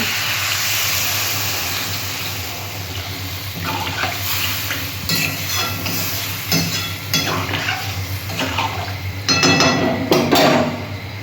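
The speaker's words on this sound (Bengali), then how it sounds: "আমি এবার জল দিয়ে দিচ্ছি" Potatoes and pointed gourd frying in a pan hiss and sizzle as water goes in, with bursts of steamy spitting and occasional clinks of a utensil against the pan, heard up close without talk.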